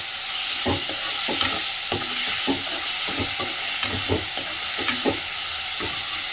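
Chopped onion and capsicum frying in a pan as a patty topping is stirred, giving a steady close sizzle broken by repeated scraping stirs at an uneven rhythm.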